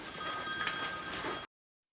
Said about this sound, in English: Bernie gets a call on her personal phone and has to take it